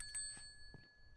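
A bright bell in a video game rings with sustained, clear tones that hang and slowly fade, sounding soft against quiet background noise.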